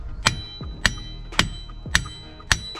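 Hammer blows on a car suspension part during work on an SRT Scat Pack, five sharp metallic strikes about half a second apart, close and loud, with ringing tails between hits.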